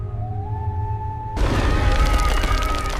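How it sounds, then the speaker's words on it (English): Frozen ice in a wintry prehistoric forest cracks and booms: a sudden loud, rumbling break arrives midway after a quiet sustained tone, then rolls on as a dense, rough roar. "The bond between mother and young holds against the sound of breaking ice."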